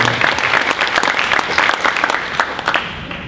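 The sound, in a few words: audience applause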